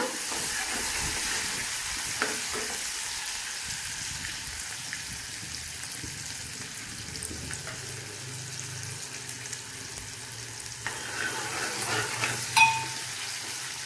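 Tomatoes fry in a pan over a medium gas flame, giving a steady, close sizzle and hiss that runs unbroken throughout with occasional faint stirring clicks.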